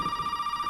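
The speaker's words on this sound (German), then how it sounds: "Telefon, ich komme." A telephone rings in the Resident Evil 7 video game, a short steady electronic tone with a quick pulsing warble, fairly faint and heard alone.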